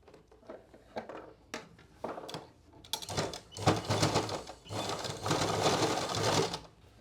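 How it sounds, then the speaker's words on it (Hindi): A sewing machine stitches the hem of a salwar in short starting bursts that build into longer steady runs of rapid needle clatter, close and fairly loud, with no talking. "इस तरह से बराबर करेंगे और यहाँ पे स्टिच लगाएंगे"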